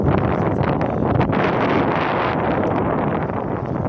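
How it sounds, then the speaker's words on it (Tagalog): Steady, loud wind buffeting a nearby microphone during desert dune bashing in a Land Cruiser, a constant broadband rush with gusty swells and no clear voices. "Hangin."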